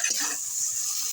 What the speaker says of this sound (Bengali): বেটে রাখা তিলটা দিয়ে আমি একটুখানি নাড়াচাড়া করে নেব